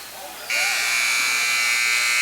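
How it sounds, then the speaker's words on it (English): A loud, sustained electronic buzzer sounds in a high-school boys' varsity basketball gym to end the first quarter, starting abruptly after a brief stretch of crowd noise and holding steady to the end. "had no time to set anything up there, Tom, as we hear the buzzer end the first quarter."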